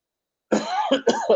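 A man coughs a few times in quick succession, close and rough, after a moment of silence.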